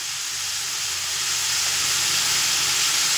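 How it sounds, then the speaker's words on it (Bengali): Banana stem cooking with prawns and turmeric on a low flame without added water gives a continuous, even steamy hiss and sizzle. It is close and steady throughout, with no talking. "দিয়ে একদম লো ফ্লেম করে থোড়টা খুব সুন্দর করে সিদ্ধ করে নেব"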